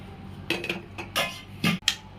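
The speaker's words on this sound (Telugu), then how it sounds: "మిరియాల పొడి, ధనియా పొడి 2 వేసి బాగా కలుపుకొని ఈ మటన్ని అందులో కలపాలి" Mutton stirred into ground pepper and coriander powder in a metal pot for mutton curry: a few sharp scraping clanks of a spoon against the pot, close and intermittent, with no talking.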